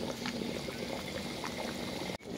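Asam pedas fish broth coming to a boil in a pot, a steady close bubbling and simmering texture throughout with no talk.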